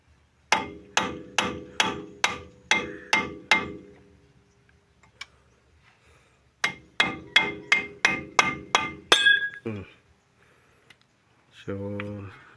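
A hammer strikes hard, metallic blows to loosen a Toyota Land Cruiser axle nut: two close, evenly spaced bursts of about seven and six ringing hits separated by a pause, followed briefly by a voice at the end.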